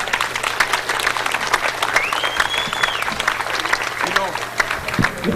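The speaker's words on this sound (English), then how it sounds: "Let's give him a round of applause." A crowd at a Fourth of July parade event in Chautauqua County applauds steadily and fairly loudly for several seconds, dense clapping with a faint whistle rising through the middle.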